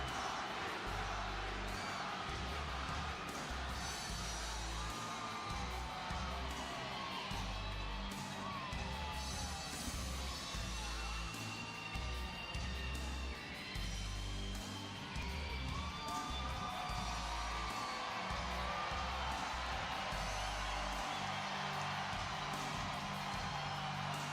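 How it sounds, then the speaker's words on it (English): A wrestling arena crowd at a SmackDown event cheers and whoops, a steady broad roar of distant voices holding through the whole stretch with low rumbling underneath and no clear individual speech. "At least the crowd are active now."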